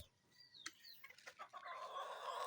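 Chickens on a small backyard mini farm cluck in a few short calls near the start, followed by a steady wash of background noise; no talking.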